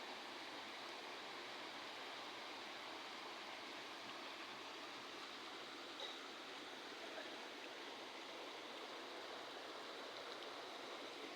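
A flowing creek near rocks outdoors gives a steady, even rush of water, faint and continuous throughout with no voices.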